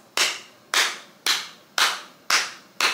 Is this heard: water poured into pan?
no